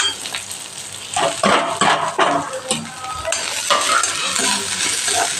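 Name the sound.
onion, chilli and coconut frying in a pan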